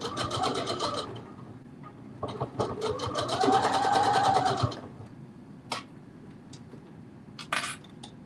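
Home sewing machine stitching a seam within the seam allowance on a Simplicity 9648 garment, a close, rapid mechanical chatter in several runs of a second or two, separated by quieter pauses.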